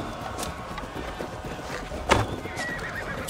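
A horse in Assassin's Creed Valhalla whinnies once in a short, loud burst partway through, over a steady backdrop of game ambience and faint hoof clops.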